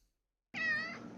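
A single drawn-out meow from Apollo the cat, close and clear, rising then easing off over about three quarters of a second after a stretch of silence.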